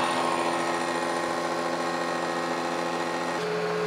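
A machine cutting a hardened steel rack at a slow feed, a steady whining hum with layered tones and a slight shift in pitch near the end, continuous and fairly close.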